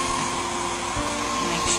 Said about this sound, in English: And just use the hair dryer.